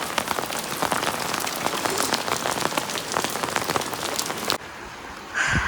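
Steady rain pours down in a hillside village, a dense continuous hiss of drops on surfaces, loud and close, briefly dropping to a softer patter near the end before swelling again.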